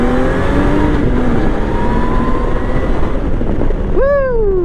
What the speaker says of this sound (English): We're freaking cruising on a Honda Valkyrie